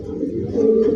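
A large racer pigeon, one of a breeding pair with eggs at a pigeon farm, gives a short, close, low throaty coo lasting about a second.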